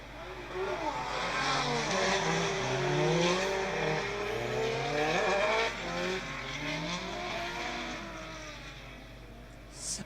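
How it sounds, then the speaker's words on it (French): Nissan S14 and Nissan S15 drift cars battling side by side, engines wailing through rising and falling revs with tire squeal, loud and continuous, a commentator talking over the action. "David Meunier dans la Nissan S14 noire qui s'élance en tête pour cette battle face à Kevin Delay dans la Nissan S15 jaune"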